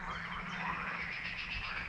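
Frogs croak from the reeds in a dense, continuous chorus of overlapping rasping calls, steady and moderately close throughout, with no voices.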